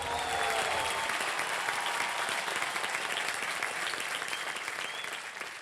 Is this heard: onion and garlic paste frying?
no